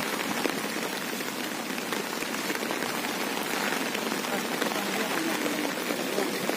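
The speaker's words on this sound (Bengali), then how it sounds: "সারাদিন এখানে ঝিরঝির করে বৃষ্টি। এখন তো বেশ বেড়েছে" Steady rain pours down in Peace Park, Hiroshima, a dense, even hiss of drops on the ground and surfaces that holds at a constant level with no one speaking.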